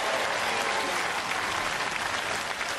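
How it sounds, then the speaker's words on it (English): A studio crowd at a Nickelodeon Robot Wars championship final bursts into a thick, even wall of applause, loud and continuous throughout with no voices standing out. "Give a big round of applause for that"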